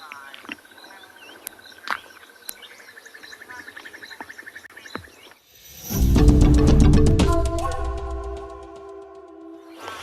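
Morning birdsong on a safari drive in the Pridelands, with crested barbet, Swainson's spurfowl and Cape turtle dove calling, scattered chirps and repeated trills that give way to a loud, rapid, rattling burst of calls.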